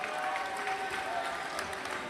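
Players and spectators clap together at a men's cloth dodgeball World Championship semi-final between Austria and Northern Ireland, a dense continuous wash of applause with general crowd noise, steady and fairly loud throughout.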